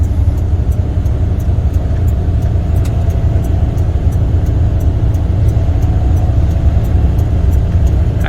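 A container truck drives onto a property at a steady pace with a constant, close low engine rumble and road drone, alone and without pauses.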